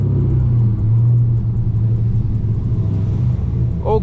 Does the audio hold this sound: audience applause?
no